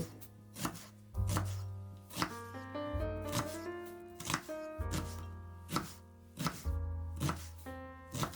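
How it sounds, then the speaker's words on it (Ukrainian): A knife chops steadily on a cutting board, crisp regular taps close by, as an onion is diced into medium cubes, with soft music playing underneath. "Цибулину нарізаю середнім кубиком і висипаю до тарілки."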